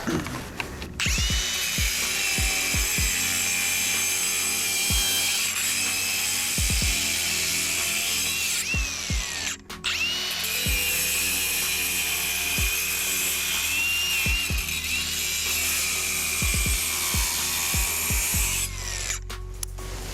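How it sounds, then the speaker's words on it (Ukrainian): An angle grinder with a diamond disc cuts into a brick with a loud, steady, whining rasp. It runs in two long passes with a short break halfway, and there is no talking over it. "перевернемо наш кирпичик і спробуємо дорізати."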